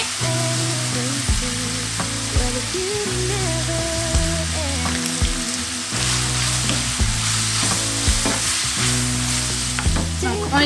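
Egg roll filling stirred and frying in a hot pan, with a steady close sizzle and spatula scrapes throughout, loud and alone over background music.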